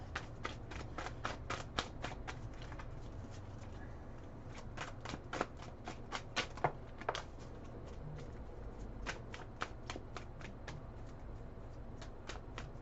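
Playing cards are shuffled repeatedly, crisp fluttering riffles and sharp snaps in quick bursts, close and fairly quiet.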